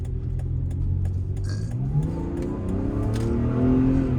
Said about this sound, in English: it's actually a pretty kind of violent downshift from either third to second